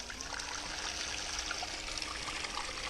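Water runs and trickles steadily into a homemade mud spinner with wire mesh, a soft continuous splashing flow, close and fairly quiet.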